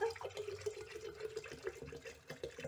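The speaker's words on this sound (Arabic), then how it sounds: "نضع لتر من الماء" A litre of plain tap-temperature water is poured onto a tablespoon of chia seeds, giving a soft, continuous splashing and trickling with small irregular bursts, fairly quiet and close.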